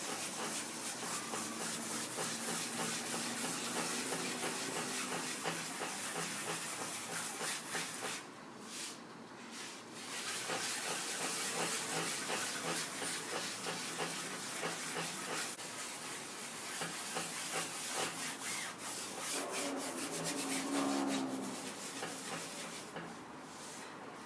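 Sandpaper is rubbed under pressure in circular strokes over a surface, a continuous close, hissing scrape with a repeating rhythm and brief pauses, steady and moderately loud with no voices.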